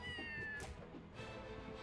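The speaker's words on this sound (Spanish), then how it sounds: "¿Por qué los gatos se me acercan a mí?" Game cats in Scribblenauts Unmasked meow faintly, a couple of soft cries set over a busy background of game music and effects.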